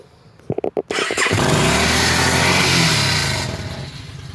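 A Yamaha XVS 950 motorcycle, freshly fitted with a swapped engine and a new crankshaft sensor, cranks with a few quick starter pulses and then catches, settling into a loud, steady idle close by.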